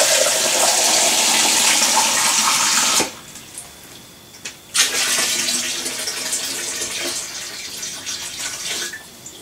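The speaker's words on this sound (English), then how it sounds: "I'm going to get a bit more water in so I can get this orange one" Water pours loudly and steadily into a home fish tank being set up, cuts off abruptly partway through, then resumes as a slightly softer continuous gushing splash.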